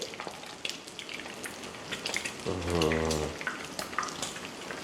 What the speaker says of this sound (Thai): ทอดให้เกรียมให้กรอบเลยนะครับผม ให้มันยิ่งเกรียมยิ่งกรอบจะยิ่งอร่อยครับ